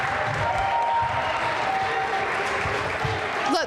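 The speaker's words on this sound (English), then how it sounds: "So we can't wait to give them claps." An audience at a school Special Olympics announcement applauds student athletes, with steady, dense clapping that lasts throughout and carries no speech.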